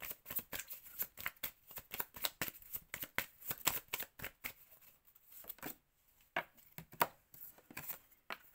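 Tarot cards being shuffled by hand in a close, quiet room, a steady run of crisp riffling flicks that pauses briefly before a few more card slaps, with no talking.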